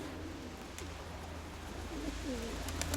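Pigeons coo softly in a loft, a few low rolling calls rising out of steady background noise, with no voices.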